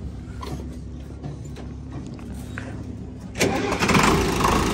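A tractor engine cranks and catches partway through, rising from a low rumble into a louder, rougher running roar close by, with a heavily loaded sugarcane trolley stuck behind it.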